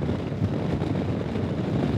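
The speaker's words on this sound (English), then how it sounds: "it is actually quite a windy day today, and windier than we thought it was going to be" Steady wind buffets the microphone during a ride on a Royal Enfield Himalayan or Meteor 350 motorcycle, a constant low roar of gusting air that fills the clip without pause, close and fairly loud.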